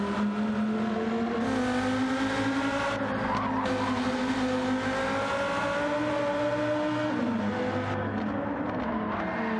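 A Lamborghini race car in a sim racing game spins out at Autopolis: a loud, sustained engine drone with the tyres squealing and skidding as the car goes round, pitch wavering throughout, with no voices.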